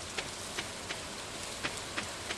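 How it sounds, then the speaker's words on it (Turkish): Rain falls in the Stardew Valley farming game as a steady, dense hiss of rainfall with soft periodic droplet ticks, heard alone without talk. "Yağmur yağıyor şu anda."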